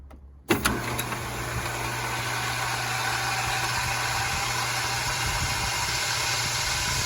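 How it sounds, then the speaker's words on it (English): A plumbing water pump kicks on abruptly after line pressure drops, then runs with a steady, close electric hum and buzz for several seconds without any talk. "the pump should actually come back on"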